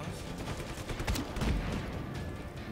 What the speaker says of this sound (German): Der Onkel ballert ja erstmal wie so ein Wahnsinniger.